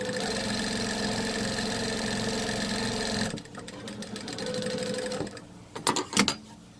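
A sewing machine runs steadily for about three seconds while top stitching along a fabric Easter basket strap, then falls quieter with fainter mechanical whirring and finishes with a few sharp clicks and thumps.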